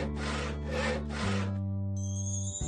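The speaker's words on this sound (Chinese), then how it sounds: "用锯子把桌角锯短一些" A cartoon saw cuts down the legs of a wooden table in a few quick, rasping back-and-forth strokes, followed by sustained bright musical tones.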